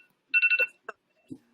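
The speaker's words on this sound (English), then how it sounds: "Sorry, that was my phone." A mobile phone ringtone plays a quick burst of four bright repeated tones, followed by a couple of softer blips, fairly close and clear with no talking over it.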